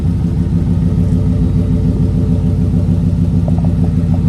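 A 1967 Chevrolet Nova idles steadily, its engine producing a loud, even, low rumble with a regular throbbing pulse throughout, heard up close with no talking.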